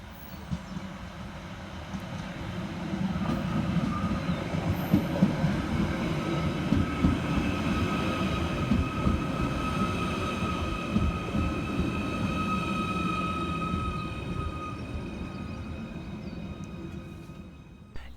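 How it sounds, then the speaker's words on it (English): A Merseyrail class 777 electric train pulls into Maghull North station, a steady low rumble of wheels and motors with faint tonal whine holding for about eighteen seconds, fairly close and alone. "Arriving next into the station is 777-051, with the 10:30 Merseyrail service from Ormskirk through to Hunts Cross."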